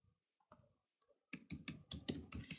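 Quick clicks from a computer keyboard, a few isolated taps at first and then a denser run of keystrokes, close and fairly quiet with no talking.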